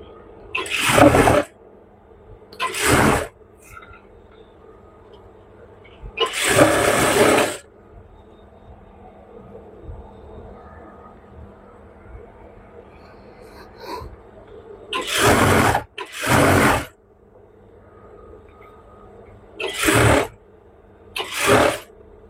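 A sewing machine stitching pajama pant leg pieces runs in short separate bursts, six or seven loud whirring runs of a second or so each, with quiet gaps between.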